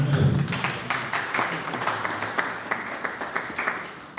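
A church congregation at a Congolese Christian musicians' association gathering applauding, a dense burst of many hands clapping at full strength that gradually thins and fades over a few seconds.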